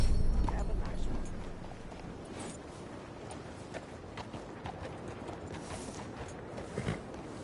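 Horse hooves clip-clop in Red Dead Redemption 2, a steady run of soft hoofbeats at moderate distance under ambient game sound, with talk present.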